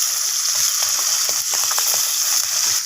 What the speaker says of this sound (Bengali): এগুলোকেও একইভাবে লাল লাল করে ভেজে নেব